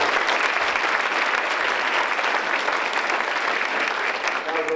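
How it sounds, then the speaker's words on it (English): Sustained audience applause at a community breakfast event, a dense, steady wash of many hands clapping together, loud and close, continuing without a break. "I hope you'll join me in a round of applause for Carolee Hutton and her leadership"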